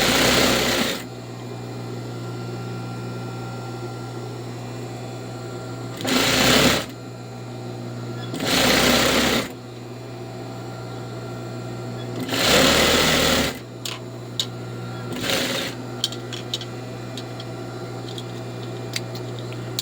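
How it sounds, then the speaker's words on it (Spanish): A sewing machine stitches the waist of a lined A-line skirt, a loud close steady whir running throughout, with a few short louder bursts and light clicks of fabric handling between runs. "voy a coser la cintura del delantero"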